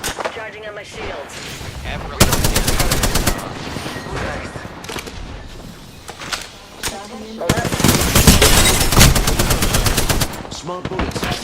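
Rapid automatic gunfire in a video game comes in long, dense bursts of loud, close shots, separated by quieter stretches of game sound. A player talks over parts of it.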